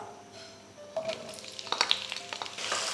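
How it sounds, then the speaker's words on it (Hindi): Chopped onions hit hot oil in a pan for a Punjabi chicken pulao, giving a steady sizzle and frying crackle that builds louder after the first second, with brief stirring scrapes and no voices. "प्याजों को हम फ्राई करेंगे"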